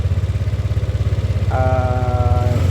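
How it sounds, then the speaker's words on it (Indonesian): A Yamaha Aerox scooter engine idles steadily nearby with a fast, even chugging pulse, and a brief tonal whine joins in toward the end. "Nah, motor nyala, mudah dinyalakan."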